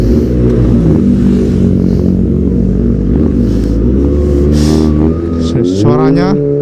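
A Kawasaki ZX-25R motorcycle fitted with a Prospeed Shark Black exhaust, with traction control switched off, idles loudly and steadily, then revs up in a rising whine near the end, with music playing underneath.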